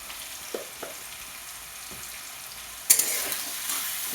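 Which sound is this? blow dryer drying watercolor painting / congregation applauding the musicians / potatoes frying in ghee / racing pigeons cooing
potatoes frying in ghee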